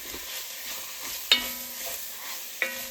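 Sausage frying and stirred in a pot for a rustic Italian tortellini soup: a steady soft sizzle runs throughout, with two sharp scraping clinks of the spoon against the pot, close and alone.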